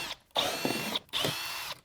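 Power tool with an 8mm socket backing out screws from the front belly pan of a 2019-2026 BMW G05 X5, two whirring bursts of about half a second each separated by brief pauses, close and moderately loud.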